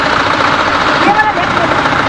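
A TVS Apache RR 310 motorcycle engine idles smoothly and quietly at low rpm after a service, giving a steady, continuous mechanical hum with faint talk beneath it.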